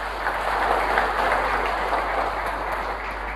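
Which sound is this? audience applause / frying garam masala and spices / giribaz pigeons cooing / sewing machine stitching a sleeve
audience applause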